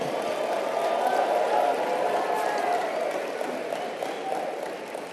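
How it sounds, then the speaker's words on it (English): Audience applause and crowd noise at a motivational talk by Les Brown, a steady, fairly faint wash of clapping with some murmur throughout. "Give yourselves a round of applause."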